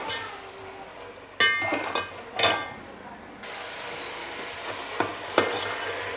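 Ginger garlic paste frying in a pot for beef degi korma, with soft stirring and scraping and a few sharp clinks of a utensil against the pot over a low steady sizzle.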